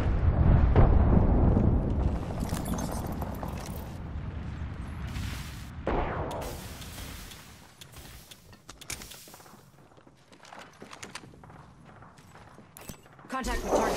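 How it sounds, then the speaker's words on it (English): A thermite grenade thrown in Apex Legends erupts in a loud, heavy rumbling burst that fades into a crackling, uneven roar, with another jolt midway and a gruff burst near the end, under voices. "Throwing thermite grenade. Thermite grenade out."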